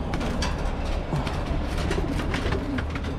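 Pigeons coo softly and repeatedly in a loft while a hen is being paired, layered over a steady low background rumble, with no talking.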